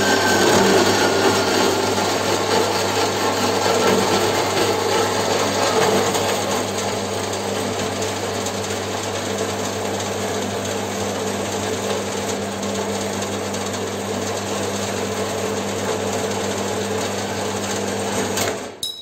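A band saw runs steadily under load while cutting, a continuous motor hum with a gritty buzz from the blade teeth, close and fairly loud from start to finish with no talk.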